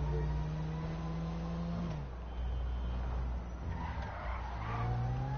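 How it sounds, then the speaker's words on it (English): A car drifts in a PlayStation racing video game, its tires squealing in long sustained screeches over a steady engine drone, loud and continuous throughout. "That was like the best drifting skills I have ever done"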